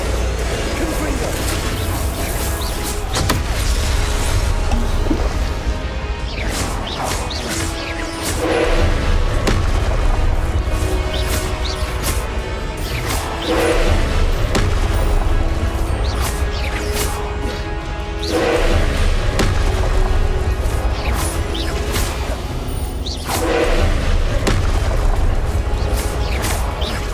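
Confringo blasting spells in a Hogwarts video game set off repeated booming explosions and crashes with whooshes, loud and dense over half a minute, while a voice talks in between.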